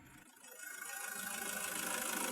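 A Toyota Innova engine running at idle with the hood open during an automatic transmission fluid check, a steady hissing mechanical hum that grows slightly louder, heard close up without talk.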